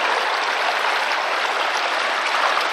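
Creek water rushes steadily through a gold-prospecting sluice box in a continuous, fairly loud broadband flow with no pauses.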